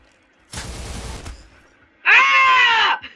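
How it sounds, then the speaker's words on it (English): Video game gunfire: a loud burst of rapid shots lasting under a second, then a pause, followed by a loud, sustained tonal wail or cry, all close and without speech. "Every single time I hear a gunshot, I'm gonna jump down and hit you."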